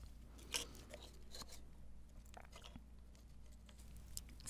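Soft, wet chewing of gambas made with shrimp, garlic and chili peppers in close-up mukbang eating, faint and continuous with a few louder smacks, no talking.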